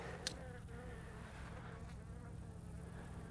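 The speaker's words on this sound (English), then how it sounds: "we got an angry bee after my drill and me" An angry honey bee buzzes close by near beehives while holes are drilled in the hive backs, a steady, faint whining drone that holds for a few seconds with no talk.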